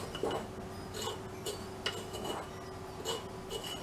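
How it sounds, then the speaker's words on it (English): Borax being mixed in a crucible for smelting roasted hematite, a series of light clinks and scraping taps spaced about half a second apart, close by, with no talk. "I'll just give it a bit of a light mix up in the crucible"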